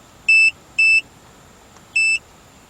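A multimeter switching on at a 2007 Acura TSX 2.4 being tested, giving three short, clean electronic beeps, two in quick succession and a third after a pause, sharp and close against a quiet background.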